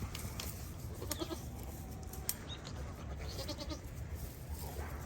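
A goat on a farm bleats a few faint times in a straw-bedded barn, under a constant loud rumble of wind or background noise.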